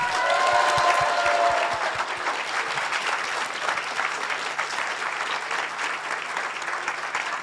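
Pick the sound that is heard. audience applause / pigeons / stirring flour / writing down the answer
audience applause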